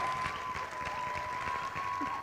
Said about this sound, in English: I heard the applause all the way from outside of Forum Hall